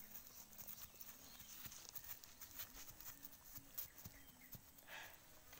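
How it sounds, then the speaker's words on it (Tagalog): Horse hooves clip-clop in a steady walking rhythm, close by, with faint outdoor background noise and no talking. "Darna, ang kabayong mabait."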